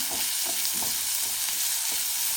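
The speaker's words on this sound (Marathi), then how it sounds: "आता कांदा आपण व्यवस्थित एक मिनिटभर गुलाबी रंगावर परतून घेऊया करपवायचा नाही" Onion frying in a little oil for Kolhapuri misal, a close steady sizzle broken by several quick stirring scrapes.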